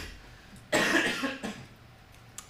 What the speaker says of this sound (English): Excuse me. I have developed a cough.